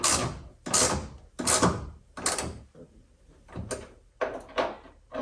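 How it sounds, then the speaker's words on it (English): Bolts tightened on a Ford Ranger tailgate assist, several close bursts of ratcheting or rattling metal, each about half a second long, separated by short pauses. "So put these bolts in just to tighten them up."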